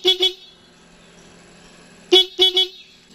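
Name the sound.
motorcycle stock horn honking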